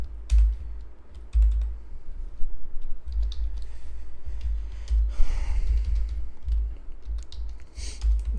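Computer code typed on a keyboard, steady clattering keystrokes with irregular rhythm and occasional louder clicks, close and moderately quiet, with breathing and no speech.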